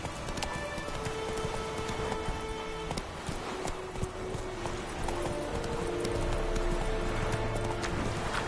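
Roach the horse gallops in The Witcher 3 video game, a steady rapid clip-clop of hooves running continuously alongside game music and ambience.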